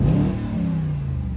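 BMW 645Ci V8, already warmed up, revs up loudly and close by, its deep engine note climbing and then holding in one sustained roar.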